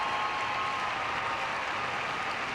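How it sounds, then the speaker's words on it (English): Crowd at a figure skating championship arena applauding a Canadian champion, a steady dense wash of clapping from a large audience, even and sustained throughout. "Still the crowd here at the Pengros Saddle Dome standing and applauding the Canadian champion"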